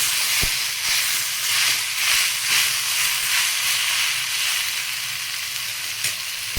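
Tomatoes sauté in a pan for an egg masala gravy, giving a steady, loud hiss and sizzle close by. A couple of faint clicks come from the utensil.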